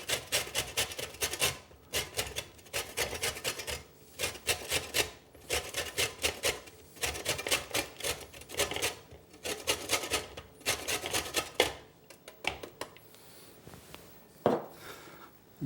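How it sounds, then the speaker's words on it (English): Orange zest is grated for a salmon recipe, giving close, rhythmic rasping strokes in quick bursts with short pauses, ending with a few lighter scrapes. "we're going to grate about a tablespoon of orange."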